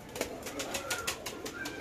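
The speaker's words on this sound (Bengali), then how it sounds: "দর্শক পাকিস্তানি টেডি কবুতর।" A Pakistani teddy pigeon coos faintly in a quiet pulsing rhythm, several soft repeated notes in under two seconds.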